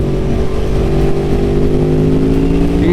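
A 2021 Aprilia Tuono V4 Factory motorcycle's exhaust on country roads, a loud continuous engine drone with rising harmonic tones as it accelerates, close and steady without talk.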